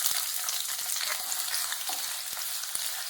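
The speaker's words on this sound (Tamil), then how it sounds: "இந்த வெங்காயத்தை சேர்த்து நல்லா கொஞ்சம் கலர் மாற அளவுக்கு வதக்கி எடுத்துக்கலாம்." Sliced onions sizzle and fry steadily in hot oil, a loud continuous crackle close by with a few soft stirring scrapes and no voices.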